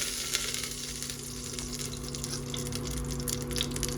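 Cumin, mustard seeds and almonds sizzle steadily in hot oil while being stirred, a continuous close crackling hiss with soft scraping and no voices.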